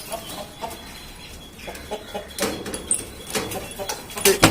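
Egg-laying hens in a home pet room cluck softly nearby, with scattered short calls over a low background hum and a few sharper, louder clucks near the end.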